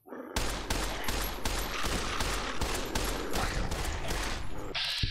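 Gunfire in the video game Fallout: a long, loud run of evenly spaced shots in quick succession, ending with a mechanical click near the end.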